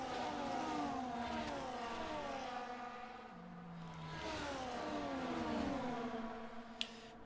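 Several race cars in a racing video game weave to warm their tires, engines droning and rising and falling in pitch as they rev and sweep past, steady and moderately close with no talk.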